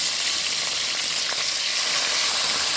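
Oxtail pieces browning in a small amount of oil in a pot give off a steady, close sizzling hiss that runs without a break and with no voices.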